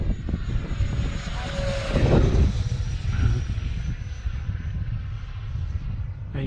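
An E-flite F-16 Thunderbird RC jet flies in strong, gusty wind, its electric ducted-fan whine rising and falling as it passes, with wind buffeting the microphone, fairly loud and close.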